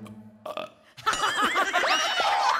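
A single loud, gurgling burp rolls out for over a second during a noontime TV variety show, preceded by brief faint sounds.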